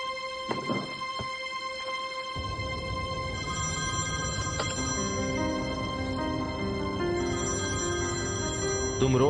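A telephone rings with repeated electronic trills, continuing over a steady background hum and some low noise.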